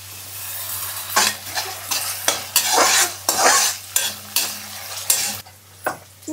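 Ginger garlic paste frying in a pan for a home-cooked pahadi vegetable dish, with a soft sizzle under repeated stirring scrapes from a spoon, close up and with no talking.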